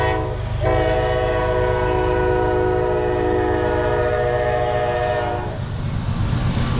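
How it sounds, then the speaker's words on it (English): A train rumbles loud and close through a railroad crossing in Georgia, its horn sounding as a sustained harmonic blare over the steady roar and clatter of the passing cars, with the horn stopping near the end while the rumble continues. "Well, this is something I haven't seen in a long time, is a train crossing."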